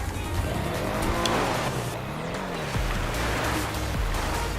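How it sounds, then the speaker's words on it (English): Canis Freecrawler off-road car in GTA 5 Online revving as it climbs a steep mountain wall; a loud, steady engine drone with rising and falling pitch sweeps, no voices. "let's try this mountain wall and see how this car handles it"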